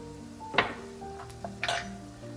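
A spoon stirs dried parsley, oregano and mustard into a chicken dish in a pot, making a few sharp metallic clinks and scrapes against the pan over a quiet background.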